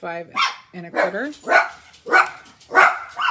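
Several dogs barking indoors in a home craft room, a close, loud series of about five sharp barks at a steady rhythm, with a person speaking briefly at the start.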